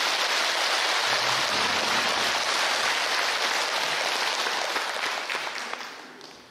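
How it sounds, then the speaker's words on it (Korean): A Buddhist temple congregation gives a warm round of applause for a dharma teacher at a regular service, a dense hiss of clapping that fades away at the end. "우리 법사선생님께 감사의 뜨거운 박수를 다시 한번 드리겠습니다."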